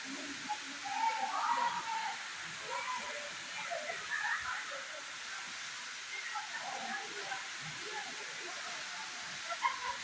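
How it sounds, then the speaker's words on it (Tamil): Sidhanathi Falls in Karnataka, running low with white water, heard as a soft, steady distant rush with faint bird calls over it. "அதனால தான் ஃபால்ஸ் பாருங்க, ஒயிட்டாக விழுகுது தண்ணி."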